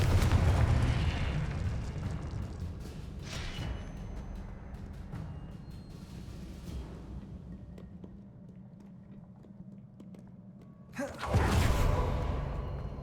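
Spell explosions from the Confringo and Incendio spells in the Hogwarts Legacy video game: a rumbling blast opens, followed by softer booms and crackles, then a sharp loud explosion near the end, with no talk.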